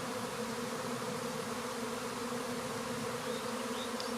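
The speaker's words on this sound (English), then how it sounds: "Some people don't like to let their bees swarm." A honey bee swarm buzzing in a secluded backyard in May: a dense, continuous hum from many bees, steady and fairly loud throughout, with no voices.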